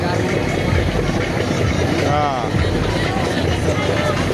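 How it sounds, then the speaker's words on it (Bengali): A small pleasure boat's engine drones steadily on a river near Chandpur, a continuous low hum that stays loud throughout with voices talking over it. "এখানে একটা ছোটো মোটো বিনোদনের নৌকা আসতেছে"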